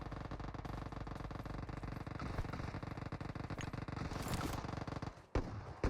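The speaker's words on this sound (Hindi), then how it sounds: "तो मैंने कुछ सुना। क्या सुना? The voice of fire arms." Gunfire in the BGMI battle royale game, rapid continuous bursts of automatic fire at moderate distance, fairly faint, with a short gap near the end.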